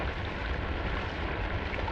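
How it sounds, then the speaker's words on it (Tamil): Heavy rain pours steadily in a dense, even hiss with low rumbling underneath, unbroken and close throughout. "மழை கொட்டுது"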